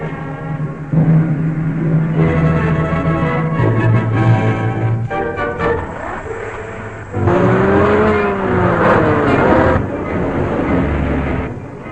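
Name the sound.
car chase, car driving off at speed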